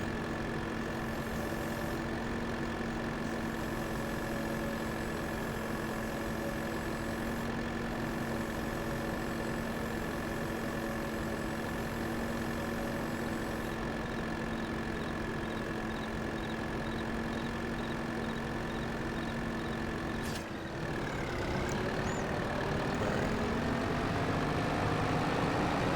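A tractor engine idles steadily in Farming Simulator 22, a constant mid-pitched hum with a steady tone, briefly dipping and shifting pitch near the end.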